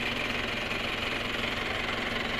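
A 4x4 off-road owner type jeep idles close by, its engine holding a steady, even, rattling hum with no other sounds on top.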